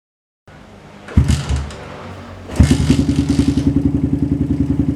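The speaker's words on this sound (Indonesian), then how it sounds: "Ini dia untuk suara motor sebelum dilakukan pergantian oli" A Suzuki Satria FU motorcycle engine, long overdue for an oil change, starts with a couple of loud thumps, falls to a rough idle, then revs up into a loud, steady pulsing putter close by.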